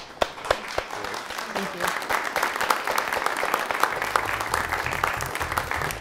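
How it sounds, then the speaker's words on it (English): Moderate applause from an audience following a panel discussion on authoritarianism, a fairly even spread of clapping at middle distance, with a brief spoken thanks and a low hum coming in toward the end. "let's give everyone a round of applause"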